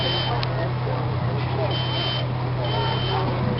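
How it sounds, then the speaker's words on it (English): A smoke detector sounds a steady high-pitched alarm tone continuously during a fire burn demonstration, over a droning low hum, with faint intermittent chirps. "Smoke detector's going out."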